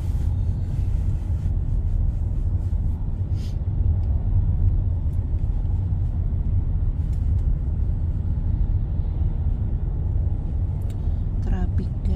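Inside a moving car in traffic after work, a continuous low road rumble and engine drone hold steady, with faint passing-vehicle sounds above the hum.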